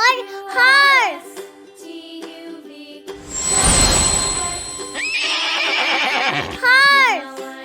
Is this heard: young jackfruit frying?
no